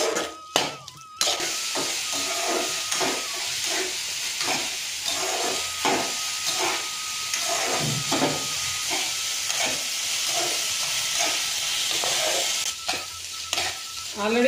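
Onions and green chillies sizzling in a pan with steady hiss and repeated stirring scrapes throughout, close and continuous, with no voices.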